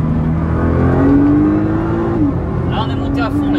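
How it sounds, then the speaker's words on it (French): A Nissan GT-R R35 engine revs hard up to its 7200 rpm limiter from inside the cabin, a loud rising drone that climbs steadily, dips at a gear change, then pulls again, with a voice talking over it. "là on est monté à fond les gars, là on est monté jusqu'au rupteur 7200"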